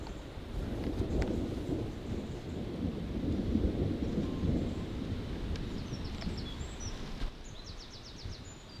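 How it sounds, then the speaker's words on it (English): A thunderstorm over a forest camp, with low rolling thunder swelling and fading under steady rain, and faint bird calls chirping near the end. "Pretty epic thunderstorm."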